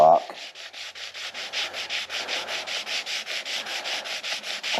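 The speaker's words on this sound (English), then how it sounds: "This is a 120 grit drywall sanding" A 120 grit drywall sanding block rubs back and forth over fresh flow-coated paint on a 2017 EZGO RXZ golf cart, in even, rhythmic rasping strokes, close and steady, with no talking.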